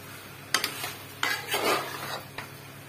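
Meat frying in a pot with potatoes just added, stirred with a utensil that scrapes and clanks against the metal in several close bursts over a steady low sizzle.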